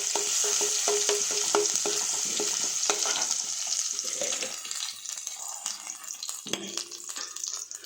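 Crushed garlic fries in a pan, crackling and sizzling loudly up close, with stirring clicks breaking through. The sound thins toward a sparser spatter near the end.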